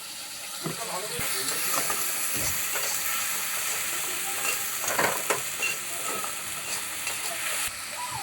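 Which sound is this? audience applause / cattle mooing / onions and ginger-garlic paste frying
onions and ginger-garlic paste frying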